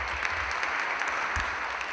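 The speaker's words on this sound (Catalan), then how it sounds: "Per tant, primer comencem amb un aplaudiment." Audience applause at a cooperative's launch presentation in a university auditorium, a steady dense wash of many hands clapping at once, sustained and even throughout with no voices standing out.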